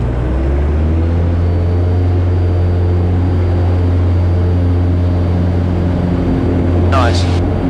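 Steady loud drone of a light aeroplane's propeller engine as power comes up in flight, a low constant hum throughout with a brief voice near the end.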